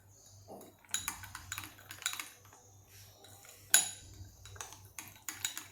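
A spoon mixes curd with homemade metkut in a bowl, producing irregular clinks and scraping taps against the bowl with short quiet gaps between strokes.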